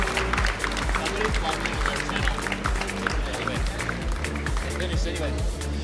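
A crowd at a high school championship final applauds the champions, with dense, sustained clapping and rhythmic stomping or thumping, loud and close, under an announcer's voice.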